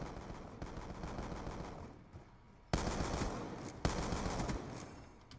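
Rapid automatic gunfire in a video game, sustained bursts with a brief lull midway, then sharper, louder volleys resuming, dense and continuous with no talking.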